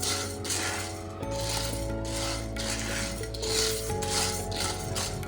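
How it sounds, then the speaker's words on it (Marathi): Sago pearls (sabudana) are dry-roasted and stirred in a hot pan, giving a continuous close scraping rattle of grains against metal with a steady low background hum. "आपण जो साबुदाणा आहे तो चांगला पॅनमध्ये गरम करून घेऊया आणि व्यवस्थित भाजून घेऊया"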